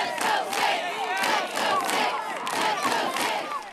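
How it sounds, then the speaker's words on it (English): A large crowd of Westfield supporters cheers and yells at a high school state final, sustained roaring waves of voices rising and falling with no clear speech. "A large contingent from Westfield came prepared to cheer on their beloved Saints."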